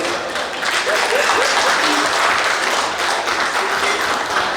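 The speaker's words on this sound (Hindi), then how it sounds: "और जोरदार तालियों के साथ साथी स्वागत करें।" Loud, sustained applause from a conference audience at a CSR conclave in Jharkhand, dense steady clapping filling the hall for several seconds with faint voices mixed in.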